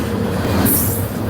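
A freight train passes at night in Millbury, Ohio, a steady close rumble of wheels and cars with a brief high squeal.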